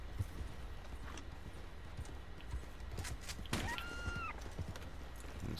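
Horse hooves clop on the ground in Red Dead Online, a few uneven thuds followed by a brief, faint whinny, all fairly quiet against a low background rumble.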